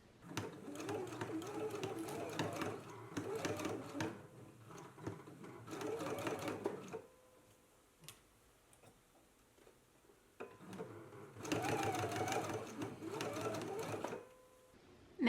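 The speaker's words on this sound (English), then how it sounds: "let's go ahead and stitch it in place" A sewing machine stitches a seam along a sleeve cuff in two long bursts of fast, steady mechanical chatter, close and loud, separated by a quieter pause with faint handling sounds.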